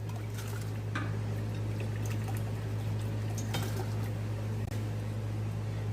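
One cup of raw apple cider vinegar pours steadily into a glass container for several seconds, with a few light clinks, over a constant low hum.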